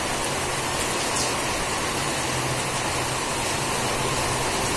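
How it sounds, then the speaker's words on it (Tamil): Heavy rain falls in a steady, dense, loud hiss that stays unchanged throughout, with no voices over it. "ரொம்ப நாளைக்கு அப்புறம் அந்த மழை இன்னைக்கு பெய்யுது"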